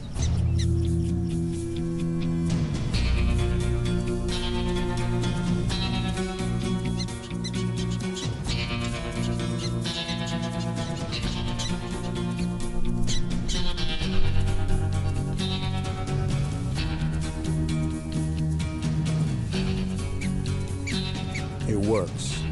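Repeated squeaky, high-pitched prairie dog alarm calls warning of a rattlesnake ring out over a dense background, with a voice speaking at times.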